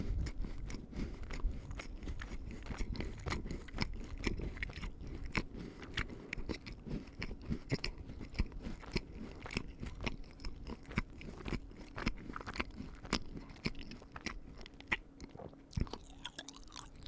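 Close, quiet chewing and crunching of Christmas butter cookies from an assortment, with steady crisp bites and mastication continuing throughout and no talking.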